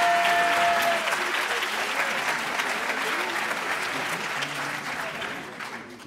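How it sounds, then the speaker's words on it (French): Theatre audience applauding at an evening show, a dense steady clapping that fills the space and slowly tapers off near the end, with a few voices mixed in. "Merci beaucoup, on les applaudit."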